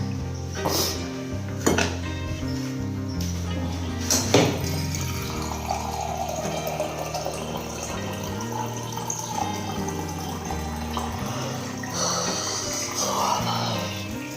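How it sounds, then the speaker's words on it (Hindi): In a home kitchen, dishes and a steel cup clink while water trickles and pours, with scattered sharp knocks of utensils and a soft running stream, fairly close and without talk. "सबसे पहले तो मैं पीऊँगी पानी।"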